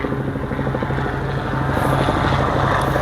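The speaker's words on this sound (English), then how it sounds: "Helicopters." Steady thudding rotor chop of a helicopter, loud and close, a constant rhythmic drone that swells slightly toward the end with no voices.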